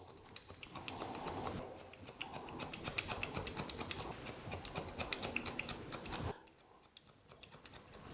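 Scissors point cut into hair during a temple taper fade haircut, giving rapid, close, crisp snips in a steady run of dozens that stops abruptly near the end, followed by a few faint sporadic clicks.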